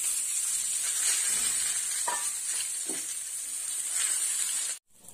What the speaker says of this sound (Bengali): এবার বাকি বেগুনগুলো ভেজে নেব।